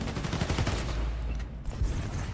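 Bursts of gunfire in the Spider-Man: Miles Morales video game, a dense, loud, continuous rattle of shots with a few heavier impacts, no talking.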